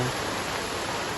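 Heavy rain falls at Libuao Lake in Sablayan, heard as a dense, steady wash of noise with no breaks, loud and close.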